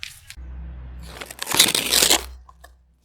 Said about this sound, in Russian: Да, очень круто пакетик открылся.